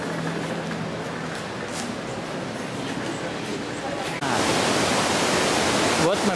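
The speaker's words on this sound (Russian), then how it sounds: "Там вот река течет." A river rushes through a mountain valley near Aguas Calientes below Machu Picchu, a broad steady roar of water that swells louder partway through, with someone talking faintly over it.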